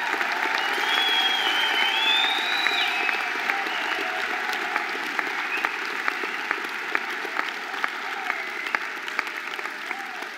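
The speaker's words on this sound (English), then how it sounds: "Let's just have one enormous round of applause for all of our graduates today." Steady, sustained audience applause for graduates at a university graduation ceremony, a broad wash of many hands clapping evenly from start to finish.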